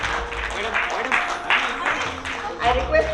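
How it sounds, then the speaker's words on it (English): A big round of applause from guests at a retirement function, with steady crowd clapping running the whole time and voices mixing in underneath. "I request everybody to give a big round of applause"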